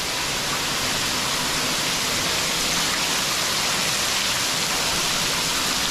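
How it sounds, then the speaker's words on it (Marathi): Heavy monsoon rain pours down in the Konkan, a dense, even hiss of falling water that stays constant and close throughout, with no talking. "तुम्ही बघू शकता पाऊस खूप पाऊस पडतो आहे"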